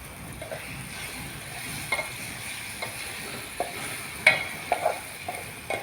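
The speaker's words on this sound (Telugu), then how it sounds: "కొంచెం ఇంకొంచెం వేసి సాల్ కలుపు" Salt stirred into a dish frying in a pan, a faint steady sizzle with a few light scrapes and taps from the spoon, close and quiet with no talking.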